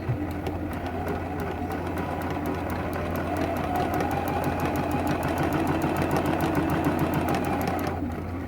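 A sewing machine runs steadily for about eight seconds, stitching T-shirt quilt binding strips together along a quarter-inch seam, with a close, even mechanical whir and rapid needle rhythm.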